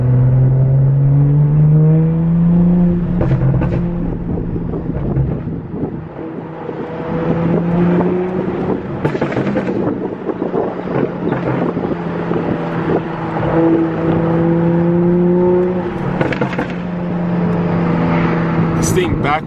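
A Dodge Hellcat Redeye revs with a loud, rumbling engine drone and sporadic sharp crackling pops, under continuous speech and wind noise.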